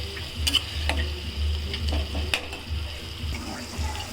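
A steady sizzle from a pan with scattered scraping ticks and clicks of stirring, no voices.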